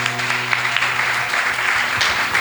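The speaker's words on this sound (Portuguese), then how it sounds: "aplauda o nome de Jesus" A church congregation applauds during a worship service, with a dense, even wash of clapping alongside a faint sustained tone underneath for a couple of seconds.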